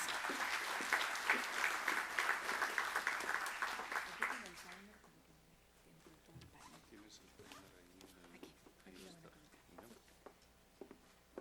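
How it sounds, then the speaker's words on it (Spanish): An audience at a carbon market forum in Peru applauds a panel for several seconds, a broad steady clapping that fades out midway, after which a voice speaks over a quieter room. "Vamos a recibirlos a todos con un muy fuerte aplauso."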